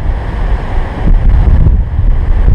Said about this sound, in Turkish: Bu noktadan e, Karadeniz'den gelen rüzgarı yiyorsunuz.